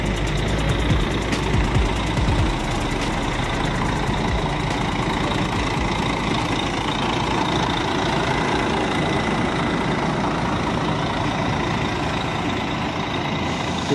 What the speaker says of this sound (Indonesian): Ini termasuk bus legend juga dengan mesin Mercedes-Benz.